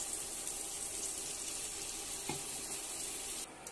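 Water poured into sizzling masala in a pan while cooking a big snail and khesari dal curry, giving a steady close hiss with a brief splash partway through.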